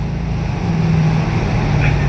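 2007 Mercedes-AMG SL55 with supercharged V8 engine revving at half throttle, a steady loud low hum that swells slightly and holds for about two seconds.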